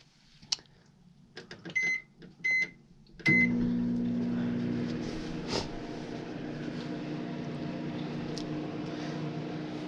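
A microwave oven hums steadily while reheating melted plastic for around 15 seconds, starting after a few button beeps and a door or latch clunk, the low drone close and continuous to the end.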